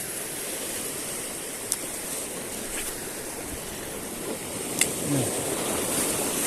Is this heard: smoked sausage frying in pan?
no